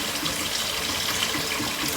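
Tap water runs steadily into a sink to rinse freshly harvested chocolate mint leaves, with a touch of apple cider vinegar added; a continuous close splashing gush fills the whole stretch with no voices.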